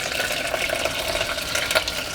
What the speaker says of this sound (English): I'm just gonna add some water into this.